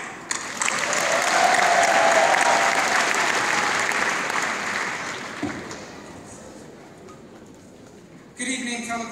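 Graduation ceremony crowd applauding a student speaker, sustained loud clapping swelling then tapering over several seconds, with a few cheers mixed in before a voice begins speaking near the end.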